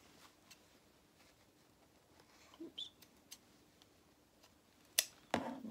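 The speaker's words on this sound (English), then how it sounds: "Trim off our threads." Small scissors snip loose sewing threads on a fabric garment, a few quiet, sharp clicks in a near-silent room, with louder rustling handling noise near the end.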